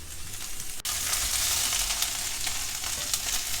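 Okra being lightly fried in a pan gives a steady, dense sizzle that jumps louder after a brief quieter moment near the start, then hisses on continuously with faint crackles.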